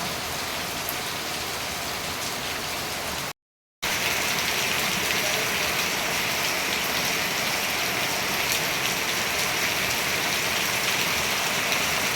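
Steady, dense rainfall hisses continuously across the whole stretch, broken only by a brief silent gap; no voices.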